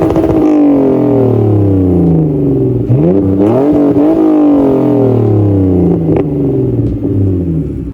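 A BMW E46 exhaust with the rear resonator removed revs loudly and continuously, a deep throaty drone with rising and falling engine pitch and a couple of sharp blips near the end.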